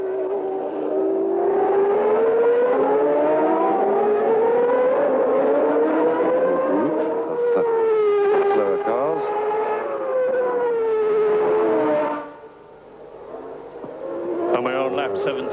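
A 1993 Formula 1 race car screams past during the San Marino Grand Prix, its high-revving engine whine rising and falling with gear changes, loud and continuous, with commentary talking over it throughout.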